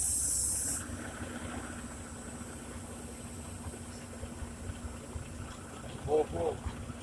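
A sharp burst of air hiss from a truck brake releasing on a removable gooseneck trailer rig, loud for under a second, then a low idling engine rumbles on quietly with a few faint knocks near the end.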